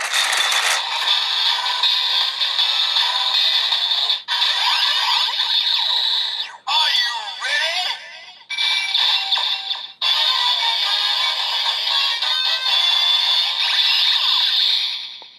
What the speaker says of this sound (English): you just get that generic noise, and you'll get the Voltec attack as well